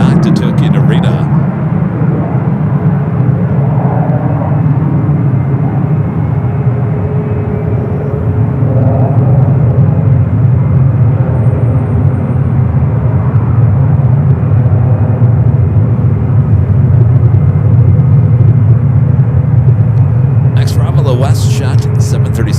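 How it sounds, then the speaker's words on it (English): All Nippon Boeing 777-300ER departing toward Tokyo Narita from San Francisco airport, a loud, steady low jet roar held throughout, with brief hissy noise at start and end. "We do have All Nippon, the 777 300ER, the flight heading back to Tokyo Narita"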